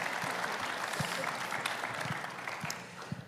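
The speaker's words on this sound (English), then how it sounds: "can we please have a huge round of applause?" Audience applause fills a conference room, a steady dense wash of clapping at moderate level with a few sharper individual claps standing out.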